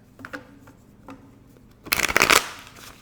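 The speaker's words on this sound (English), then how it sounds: "If I can shuffle, please." Tarot cards being shuffled by hand: a burst of riffling, rapid papery flutters from about two seconds, louder than the faint handling sounds before it, with no talk.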